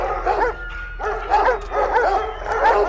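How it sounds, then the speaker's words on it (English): Dogs bark in the video game Observer, a repeated series of close, yelping barks in a steady rhythm with short gaps between the bursts. "I can hear dogs barking."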